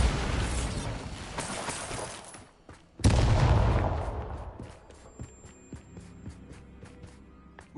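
A Bombarda blasting spell in Hogwarts Legacy goes off with a sharp loud crack, followed by a booming explosion that rolls and decays over several seconds, with scattered debris clatter afterward.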